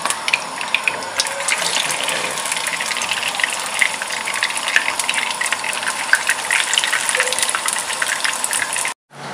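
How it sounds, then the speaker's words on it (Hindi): Chapli kebabs shallow frying in oil in a pan give off a steady, dense sizzle and crackle that runs loud and unbroken, then cuts out abruptly near the end. "अब इसको शैलो फ्राई कर लेंगे अपने जो कबाब हमने बनाए हुए रेडी किए हुए हैं।"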